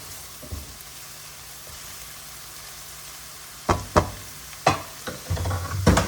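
Onions and ginger-garlic paste fry for a shrimp curry, starting with a low, quiet sizzle. Several sharp stirring scrapes and knocks follow near the end, louder and close by.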